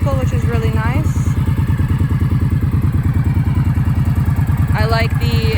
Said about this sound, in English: Starts right up. Pretty quiet motorcycle, which is really nice.